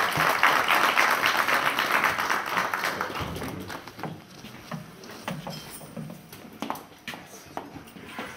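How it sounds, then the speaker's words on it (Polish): Audience applause after a brass band's Dixieland-style set at a concert by the wind orchestra from Pinczyn, Zblewo, dense clapping at first, then thinning into scattered, fading claps. "może oklaskami zachęćmy naszych muzyków"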